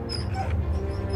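A pet dog whimpers softly indoors, a faint, brief whine heard alone against a low steady background hum.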